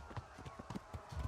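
Horse hooves clop in quick, irregular beats on the ground in the medieval game Kingdom Come: Deliverance, quiet and brief.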